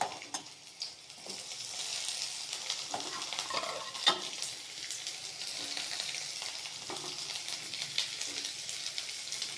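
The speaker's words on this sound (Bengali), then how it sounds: "পেঁয়াজ কুচিগুলো দিয়ে দেবো ভাজায় রসুনের সাথে" Steady sizzling of chopped onions frying with garlic in hot oil, with occasional soft stirring clinks against the pan, moderately quiet throughout.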